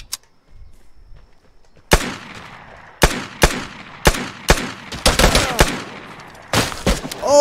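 Gunfire in the video game Vigor starts after a quiet moment with a series of loud, sharp shots, some spaced and some in rapid clusters, close and without talk.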